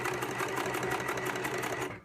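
A sewing machine runs a reverse stitch to lock the start of a seam on a storage case, giving a steady, close, continuous mechanical whir for about two seconds before stopping.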